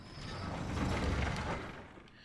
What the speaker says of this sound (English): go ahead and recall the elevator